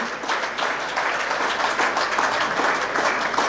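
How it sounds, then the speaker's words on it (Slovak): Steady applause from an audience at a football association awards ceremony and ball, honoring the best goalkeeper; dense, continuous clapping throughout without pauses. "Ešte raz potlesk pre Mareka, najlepšieho brankára."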